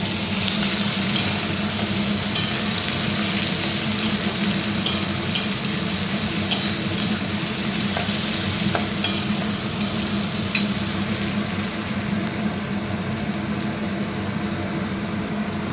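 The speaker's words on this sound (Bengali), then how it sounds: "পেঁয়াজটা ভাজা হচ্ছে" Onions sizzle and crackle in hot oil in a wok as a spatula scrapes and stirs them, a loud, steady frying close by with occasional sharp clinks of metal.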